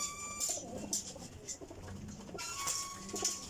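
King pigeons coo softly in a gentle, repeated rhythm, quiet and slightly distant, with a little background noise and no clear talk.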